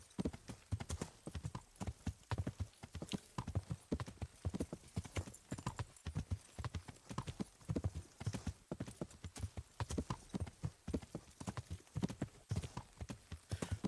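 Horse hooves clip-clop steadily on a road in the video game Kingdom Come Deliverance, a fast, continuous rhythmic patter heard up close for the whole stretch, with a brief whinny mixed in.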